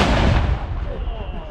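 Big military guns firing blanks at a military show: one loud, booming blast at the start that rolls off into a long, rumbling decay, heard close and without talk.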